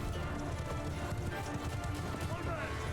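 Cavalry horses charge in Mount & Blade II: Bannerlord, a dense rumble of many hooves pounding steadily under a constant battle din, with someone talking over it.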